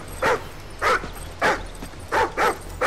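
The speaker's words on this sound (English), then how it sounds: "What is this dog up to?" Riley the dog barks in Call of Duty Ghosts, five or six sharp, close barks spaced unevenly over a low rumbling background.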